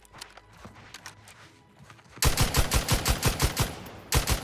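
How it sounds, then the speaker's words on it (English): Rapid bursts of gunfire erupt in The Outer Worlds 2 game combat, starting faint and scattered, then turning loud and dense with rhythmic repeated shots and a brief pause near the end. "Who's shooting at me?"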